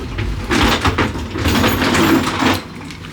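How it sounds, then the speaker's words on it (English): Automatic sliding doors to an airport executive lounge glide open with a steady mechanical whoosh and rumble that fades near the end, with no talking over it. "Doors opening."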